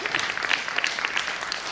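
Audience applause for a guest at an autism awareness conference, a brisk, steady patter of many hands clapping, moderately loud and continuous over the short stretch.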